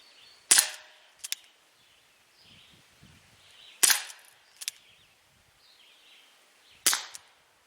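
Three sharp shots from an ASG Dan Wesson 4-inch CO2 BB pistol, each crack followed by a quick metallic ping of the BB striking the target, spaced a few seconds apart with quiet gaps between.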